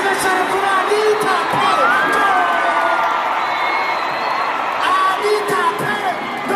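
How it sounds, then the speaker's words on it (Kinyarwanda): A large concert crowd in Rwanda cheers and whoops to welcome the MC Anita, a loud, sustained roar of voices with shouts and whistle-like calls rising through it. "amashyi cyane kuri Anita"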